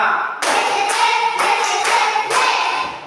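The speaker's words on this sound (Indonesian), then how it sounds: "Tepuk 1, tepuk 2, tepuk 3, tepuk 4," A classroom group claps in unison on a count, five sharp synchronized claps in a steady rhythm, close and loud with no talking between them.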